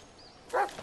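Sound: dog barking in Blair Witch video game

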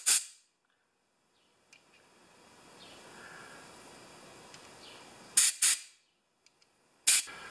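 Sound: compressed air blowing off carburetor parts of an older Toro mower

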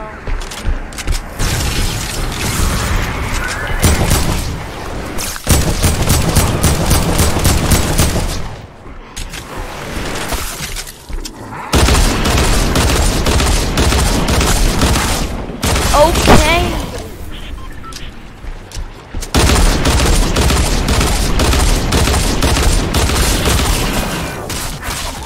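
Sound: gunfire in a video game

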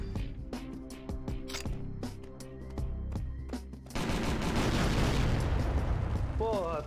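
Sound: explosion in the video game Dead to Rights

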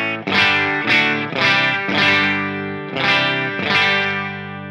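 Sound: electric guitar through Line 6 Helix Orange Rockerverb amp model

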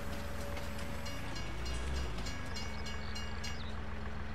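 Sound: train in Farming Simulator 19 video game

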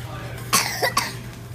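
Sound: child coughing from excitement

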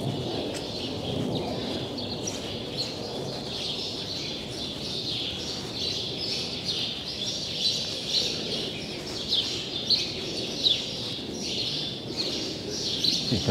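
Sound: birds nesting in a ceiling chirping

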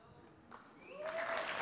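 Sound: audience applause

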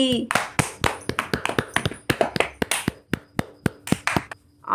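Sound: loud applause for race winners in a cartoon

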